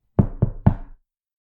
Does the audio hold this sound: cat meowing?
no